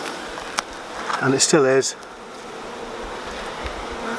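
Honeybees hum steadily around a hive frame, a soft continuous drone beneath a brief spoken phrase.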